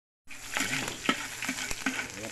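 Onion and garlic sizzle loudly in hot oil for a Filipino dinuguan, a steady crackling hiss with sharper pops throughout and no talking.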